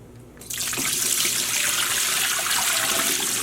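Tap water gushes suddenly into a dyeing pot, a loud close hiss and splash that starts abruptly and holds steady, while yarn and roving are dyed with turmeric.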